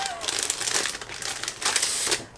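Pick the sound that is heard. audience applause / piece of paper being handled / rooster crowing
piece of paper being handled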